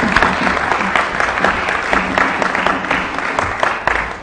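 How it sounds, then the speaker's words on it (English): A crowd at a board meeting applauds loudly and steadily for a few seconds, dense clapping filling the room with a few voices mixed in. "One more round of applause."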